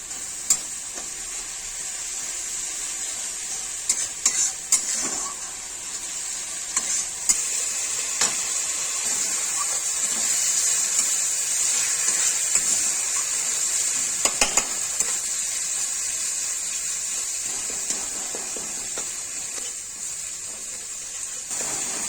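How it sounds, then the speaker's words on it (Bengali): Ground spices with turmeric and salt frying in a pan for a potato, aubergine and egg curry give a constant bright hiss. A few sharp clinks of a utensil against the pan sit over it, close, with no talk. "মশলা ভাজা হয়ে গেছে"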